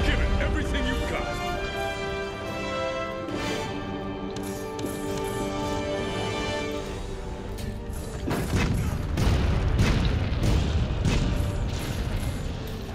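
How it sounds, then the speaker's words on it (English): Cannons firing in the video game Monster Hunter World, during the fight to stop Zorah Magdaros: repeated deep booms and crashes pile up over a dense game soundscape with music, growing heavier and more frequent in the second half. "Load these cannons faster."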